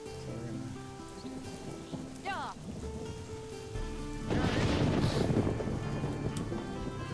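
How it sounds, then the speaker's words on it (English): Thunder and rain in the strategy game Northgard, a continuous wash of rainfall with a low rumbling swell building partway through, heard over faint game music tones. "I hear thunder."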